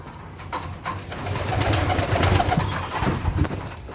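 Young homing pigeons gather at widened water drinkers in a loft, giving soft, close coos and low bird murmurs with light shuffling and faint background noise.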